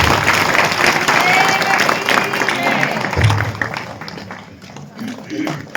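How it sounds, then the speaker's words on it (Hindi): Enthusiastic clapping from a gathered crowd at a devotional satsang, filling the clip under a loud voice speaking over it. "माननीय विधायक जी के लिए जोरदार ताली बजा के अभिनंदन।"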